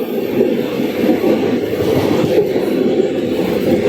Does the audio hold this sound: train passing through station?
yes